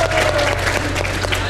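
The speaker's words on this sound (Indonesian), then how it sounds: "tepuk tangan dulu dong, buset" An audience applauds in a studio, a brief burst of steady clapping under a low hum.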